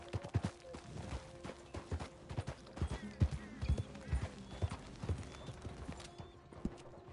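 Horse hooves clip-clop at a steady walking pace down a slope in an online Western video game, a faint, even run of hoof strikes with occasional soft background tones.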